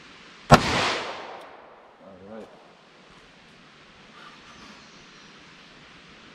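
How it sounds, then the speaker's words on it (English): One loud, sharp gunshot from a .38 Special revolver firing a Winchester Silver Tip round into wooden boards, a single close crack with a short rolling echo, then quiet outdoor air and a brief murmur of voice. "So let's start shooting those 38s."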